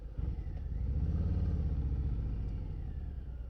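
A 2024 Harley-Davidson Fat Boy's engine rumbles low and steady while riding, a deep throbbing heard alone for a few seconds.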